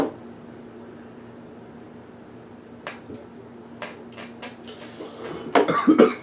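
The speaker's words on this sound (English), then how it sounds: "coughing over there" After a quiet hum in a podcast studio, scattered sharp clicks lead into a burst of several rough coughs from a person near the end, fairly close.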